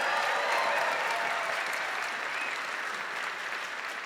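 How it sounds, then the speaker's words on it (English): An audience claps steadily for a performing group at an evening showcase event, a dense sustained wash of many hands, loud and close, fading only slightly toward the end with no voices over it. "Give them another big round of applause."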